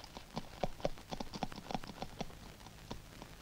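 Cavalry horses' hooves clip-clop in an irregular, close cluster of hoofbeats as soldiers dismount, moderately loud with no talk over them.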